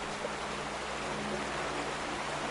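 Water flows steadily at a lake shore in The Vanishing of Ethan Carter, a continuous broadband rushing wash that stays even and close throughout, with no talking.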